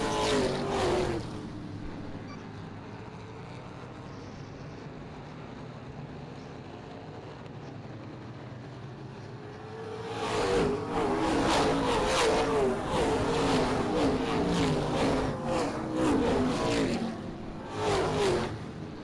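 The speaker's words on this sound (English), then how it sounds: "Chance Rice is second, single file through the first 5, 6, 7, 8 cars now" Stock cars racing at Springport Motor Speedway roar past at full throttle, a loud engine pass building near the midpoint and holding with repeated surges, after a quieter stretch of distant track noise.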